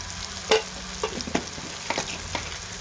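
A spoon stirs chili powder into onion garlic masala frying in a pan, with a soft sizzle under several distinct scraping strokes, close by and without talk.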